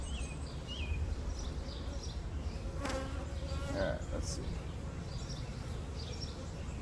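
A steady hum of many bees buzzing at a Layens hive during an inspection fills the whole stretch, with a person briefly speaking partway through and faint chirps in the background.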